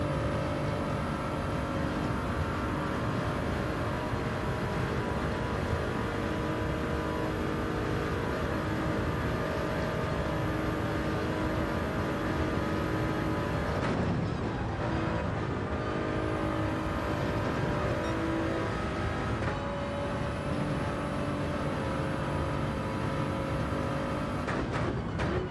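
A BMW race car's engine roars steadily in Gran Turismo 7, a continuous loud drone with shifting pitch and brief dips as the car changes gear.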